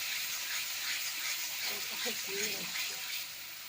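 Water is poured into a pan of frying spice paste for a Bengali fish curry, setting off a steady, hissing sizzle that eases off toward the end.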